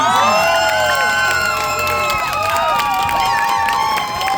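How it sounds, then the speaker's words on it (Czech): A crowd cheers and applauds the firefighters from Ratíškovice at an outdoor roast pig competition award ceremony in Vracov. The sound is loud and continuous, with voices calling out over it. "Prosím vás, velký potlesk pro hasiče z Ratíškovy Zlomí."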